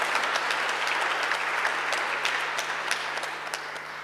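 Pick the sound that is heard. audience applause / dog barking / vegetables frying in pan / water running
audience applause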